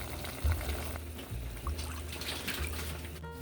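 Cooking liquid from simmered sancocho bones is poured into a measuring cup, a soft continuous trickle with a few low thumps, close and fairly quiet, no talking.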